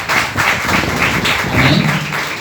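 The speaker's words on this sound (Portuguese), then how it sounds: "Aplaudam a Ele." Church congregation applauding during a worship service, a dense, continuous wash of clapping with music sustaining underneath.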